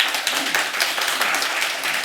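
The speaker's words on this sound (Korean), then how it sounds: "우리 박수로 한번 환영하시겠습니다" A church congregation at a Sunday worship service claps to welcome a returning family, a lively, close burst of many hands clapping together, steady and full throughout.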